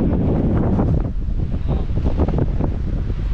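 Loud, continuous wind gusts roar across the mic outdoors on a cold slope with pine trees, a dense low rumble that swells and dips without pause.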